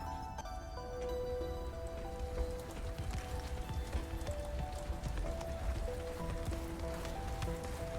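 Hail pattering down in Subnautica Below Zero, a dense, steady rattle of impacts layered over ambient game music and tones, moderately loud and continuous throughout.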